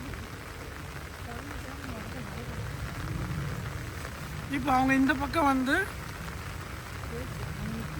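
Heavy rain pours steadily with a dense hiss in Scotland, while a voice speaks briefly partway through over the downpour.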